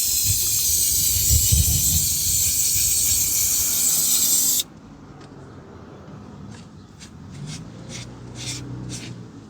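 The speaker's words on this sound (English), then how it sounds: "we're going to spray a little bit of the throttle body cleaner to clean the area down" A loud, steady hiss of throttle body cleaner being sprayed on a 2015 Toyota Sienna 3.5 V6 runs for several seconds, then cuts off abruptly, leaving quieter background with a few faint ticks.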